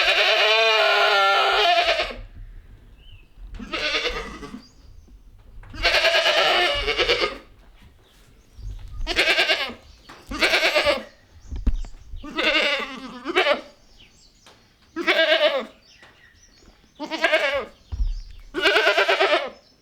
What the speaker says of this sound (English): Our goats have really started to bellow this year.